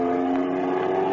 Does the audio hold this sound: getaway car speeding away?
yes